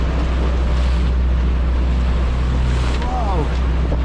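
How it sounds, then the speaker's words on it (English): Strong ocean current rushes around a sailing boat off Tindhólmur in the Faroe Islands, a steady loud wash of water with low wind rumble, with a brief voice in the middle. "Insane ocean current around the Tindhólmur."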